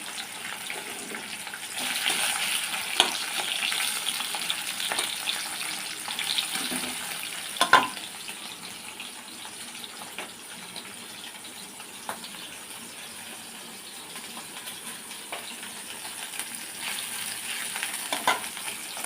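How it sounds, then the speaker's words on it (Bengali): Small tangra catfish fry in hot oil with a steady sizzle and crackle, broken by occasional stirring taps and spatters, heard close with no talking. "সবগুলো মাছ এবার ভেজে নেবো"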